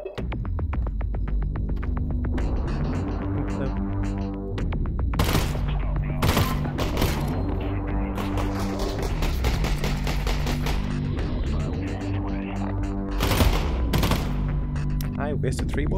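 Gunfire in the VR game Half-Life: Alyx, a Facility Beta 3 playtest: repeated sharp shots and short bursts ring out over a steady electronic throbbing hum, loud and close.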